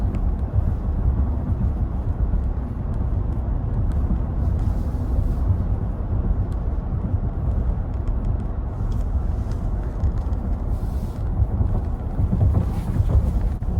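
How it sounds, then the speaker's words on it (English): Steady broadband roar of wind and road rush inside a 2024 Toyota Sequoia Capstone SUV at highway speed, constant and loud throughout, with no talking. "you won't be able to hear the full wind noise with this recording"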